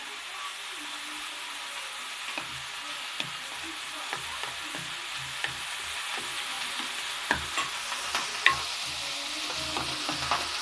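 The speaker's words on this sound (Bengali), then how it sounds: "এঁচোড়টা ভেজে নেব" Young jackfruit frying in a pan, a steady soft sizzle with occasional crackles and pops, some sharper spits toward the end, with no talking.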